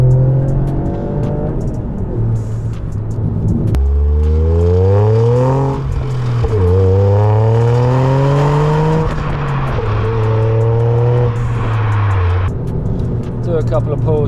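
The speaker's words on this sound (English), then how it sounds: "This car's got an aftermarket exhaust, so it's quite loud." A Toyota GR Yaris with an aftermarket exhaust pulls hard through the revs, its loud engine note rising in several sweeping climbs with brief drops at gear changes, while someone talks over it.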